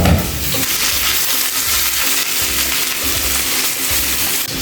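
Shrimp frying in a hot pan with onions, a steady loud sizzle broken by repeated low scraping stirs, no talking.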